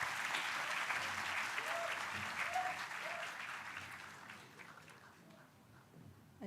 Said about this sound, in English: So let's applaud your parents